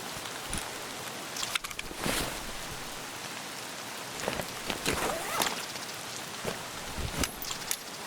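Rain in the video game Escape from Tarkov, a steady wash of falling drops with scattered sharper taps and thumps, moderately loud and continuous throughout.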